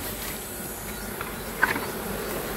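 Bees at a rural smallholding's hives give off a steady, faint insect buzz throughout, with a brief louder flicker near the middle and no talking.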